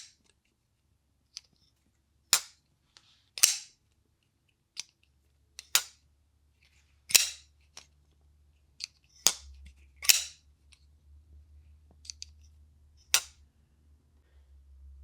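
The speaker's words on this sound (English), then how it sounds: "the sound of opening and closing this knife is like the build" Crisp, sharp clicks and snaps of a WMK Wrap Mechforce folding knife being flicked open and snapped shut, repeated a dozen times at irregular intervals, close and clear over faint handling noise.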